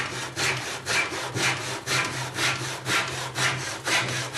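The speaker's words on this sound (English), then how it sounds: "This is a standard miter box with a back saw, and all you do is slide it through, drop the saw on it" A back saw working through wood in a standard miter box, giving steady back-and-forth rasping strokes at an even rhythm, close and moderately loud with no talking.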